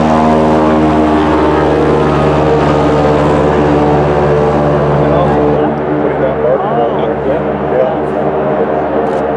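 A propeller airplane flies over a northern British Columbia hunting area, its steady droning engine loud and continuous throughout, with people talking over it.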